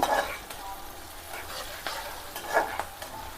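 Onions frying in a pan with a soft, steady sizzle close up, broken by a few scraping stirs and light clicks of a utensil, with no talking heard.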